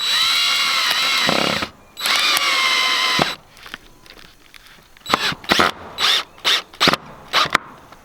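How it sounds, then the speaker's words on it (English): A cordless drill whines in two long sustained bursts, then a third, driving a deck screw into treated wood while plastic is fastened below a wiggle wire track on a high tunnel greenhouse; a run of short rapid trigger pulses follows. "We're going to take our drill."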